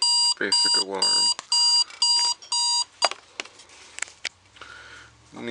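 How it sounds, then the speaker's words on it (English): Spartus model 1140 Apollo digital clock alarm beeping in six loud, regular electronic bursts close by, then stopping, followed by soft clicks and handling noise. "And again, basic alarm."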